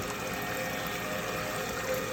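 A water processing machine that chlorinates and filters incoming water runs with a steady, noisy pump hum and rushing water, continuous and close.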